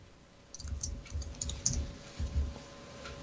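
Computer keyboard being typed on in two quick runs of soft clicking keystrokes with a short gap between, close and fairly quiet, no voices.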